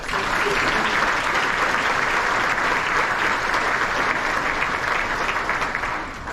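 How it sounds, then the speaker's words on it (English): A keynote audience gives a round of applause, a dense, loud wash of many hands clapping continuously throughout, with faint crowd murmur blended in. "I just want to have everybody do a round of applause to be back together"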